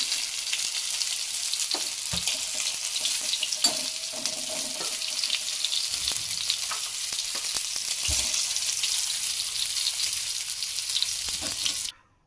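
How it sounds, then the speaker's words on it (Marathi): Large fish pieces frying in a pan outdoors, a continuous hissing sizzle with occasional knocks and scrapes as pieces are turned, ending abruptly. "यांची पण एक बाजू झाली फ्राय तर पलटूया"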